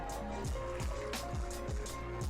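Water is poured from a glass, about one and a half glasses, into a mutton karahi pot that already holds garlic and ginger paste. It makes a steady close liquid fill with repeated gurgling glugs and no voices.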